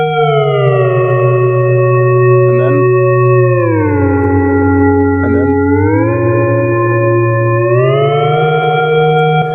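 A sustained synth chord built from three sine waves, its pitches gliding smoothly down and back up as a knob is turned, loud and continuous with no talk over it.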